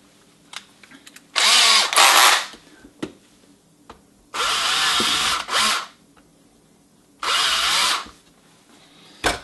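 A power drill enlarges screw holes in a box for a replacement low-voltage transformer on a NuTone Model 2540: three loud, close bursts of whining drilling lasting about a second each, with quiet handling clicks in the gaps.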